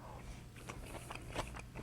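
A bite of cold beet salad being chewed, with soft, close crunching and a few brief mouth sounds, quiet and without talk.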